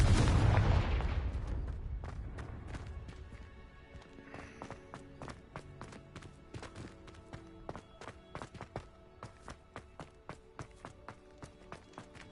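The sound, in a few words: Confringo fire-blast spell cast in video game Hogwarts Legacy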